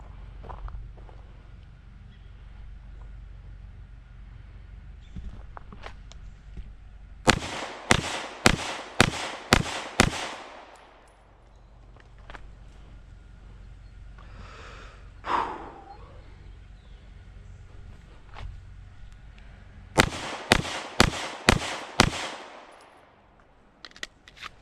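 Roland Special Agency Arms 417 pistol firing 115 grain ball ammunition outdoors: two close, loud strings of about six rapid shots each, separated by a quiet pause with a brief rustle.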